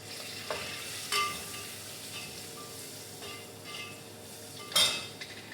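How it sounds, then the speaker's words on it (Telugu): Green chillies sizzle in a pan for chicken biryani, a soft steady frying hiss broken by a few sharp clinks of a utensil against the pan. "ఇప్పుడైతే పచ్చిమిరపకాయలు వేస్తున్నాను."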